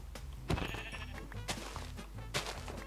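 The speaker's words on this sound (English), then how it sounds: "Sheep." Minecraft sheep bleat several times in short wavering bursts, loud and close, over a steady game background.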